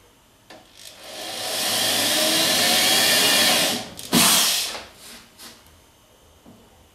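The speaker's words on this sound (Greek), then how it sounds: "θα ανοίξουμε τρύπες." A large 8-9 mm drill bores holes in a wall to hang a blackboard, whining up to a sustained loud drone, then cutting off and giving a few shorter bursts before stopping.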